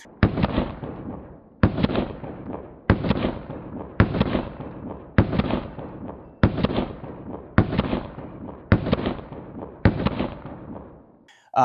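Nine evenly spaced gunshots from a Sig Sauer P226 X-Five pistol, each a loud sharp crack with a booming decay, fired at a steady slow pace outdoors with no talking.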